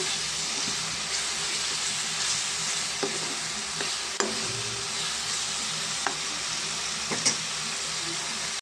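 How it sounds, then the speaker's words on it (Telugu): Masala of onion and tomato with chili powder stirred and fried in a pan for spicy fish pulusu, giving a constant loud sizzle with intermittent clinks and scrapes of the spoon against the pan, no voices. "దీన్ని కూడా మనం మంచిగా కలుపుకున్నామండి కొంచెం కారం ఈ మసాలాకి పట్టేదాకా కలుపుకున్నామండి"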